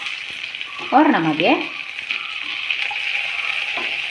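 Chopped tomato frying in a hot pan, giving a steady sizzle throughout while someone speaks briefly near the start.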